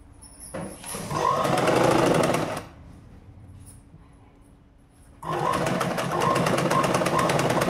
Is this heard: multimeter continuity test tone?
no